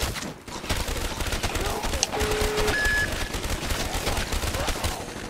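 Continuous rapid gunfire from shooting zombies on the Moon map in Call of Duty Zombies, loud sustained bursts filling the whole stretch with brief game beeps mixed in.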